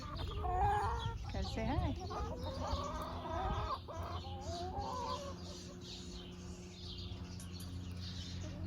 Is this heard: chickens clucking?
yes